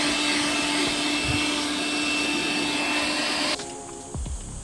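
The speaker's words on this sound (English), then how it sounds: "you're vacuuming" A vacuum cleaner runs loud and close with a steady whine while cleaning around a car seat, then its pitch drops abruptly as it shuts off or the nozzle is blocked near the end.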